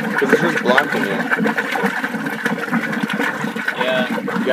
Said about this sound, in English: Never be a vortex with the pump submerged in the water.